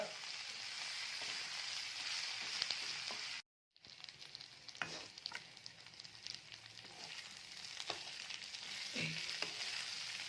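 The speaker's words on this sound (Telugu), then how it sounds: "ఒక్క నిమిషం ఇలా బాగా తిప్పుకోండి" Steady loud sizzling of ingredients for crab curry frying in a pan, with intermittent scraping and clinks of stirring; a brief cut to silence midway.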